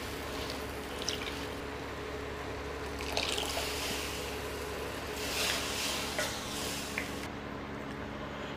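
Water poured into a pot of dal curry made with toor dal, chilli powder and cooked lentils, a steady trickling and splashing that runs through the whole stretch, with a few brighter splashy bursts along the way.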